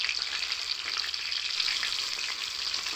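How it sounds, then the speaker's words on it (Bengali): Chicken pakora fries in oil in a wok, one piece at a time, producing a steady, dense hiss and crackle, close and even throughout with no voices. "এভাবে করেই কিন্তু সবগুলো আমি ভেজে নিচ্ছি।"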